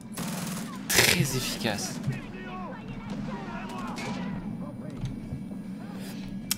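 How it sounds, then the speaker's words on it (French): Rapid machine gun fire bursts out in the Far Cry 4 video game, loudest in a heavy volley early on, then scattered shots over a steady rumbling game background, with someone talking over it. "Très efficace la mitrailleuse."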